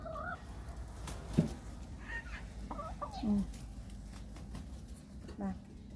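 Laying hens let out of their coop cluck softly nearby while someone talks over them in Thai, with a few louder squawks breaking through.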